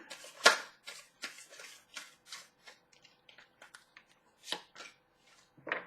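Tarot cards are shuffled by hand in a series of short, crisp riffling and slapping bursts, close and fairly quiet, with brief pauses between them.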